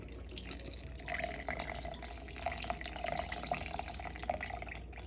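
Coconut milk and half a can of evaporated milk poured into a plantain porridge mixture: a soft, steady liquid trickle with faint splashy drips, close and quiet, no talking.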